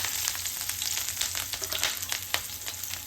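Chopped green chillies and curry leaves fry in hot oil in a pan for tomato chutney, a steady close sizzle with crackling pops and scraping stirs, no voices.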